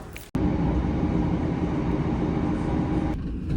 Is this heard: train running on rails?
yes